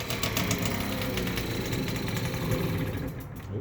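A moped engine started with the choke on and a few pedal turns, now running steadily with a buzzy, slightly rough idle that stays loud and close, easing off slightly at the very end.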